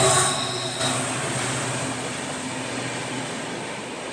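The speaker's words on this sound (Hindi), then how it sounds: "यहाँ पर क्रॉसिंग हो रही है विवेक एक्सप्रेस की" Vivek Express train, India's longest, running from Kanyakumari to Dibrugarh, passing a crossing on a single-line route in India: a steady, broad rumble of rolling coaches, heard close and continuous.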